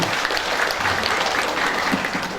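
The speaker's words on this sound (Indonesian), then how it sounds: "tepuk tangan dengan apresiasi" Audience applause at a village PKK women's community event, a brief burst of loud, dense clapping filling the moment with no voices on top.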